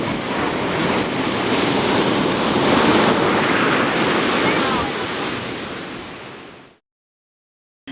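Ocean surf in Hawaii, a loud steady rush of breaking waves with wind buffeting the microphone, swelling briefly, then cutting to silence near the end.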